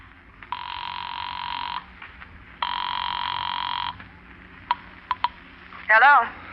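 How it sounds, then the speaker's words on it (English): A telephone rings in a 1947 radio drama, two long electric bell bursts about two seconds each with a pause between, followed by a few short clicks and a brief tonal chirp. "you hurry to a phone booth to call Helen."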